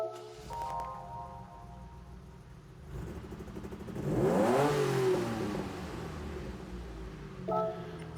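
A 2004 DMC DeLorean S2 starts up in Gran Turismo 7: a short cranking catch, a settling idle, then a single swelling rev that peaks and falls back, framed by faint menu chimes.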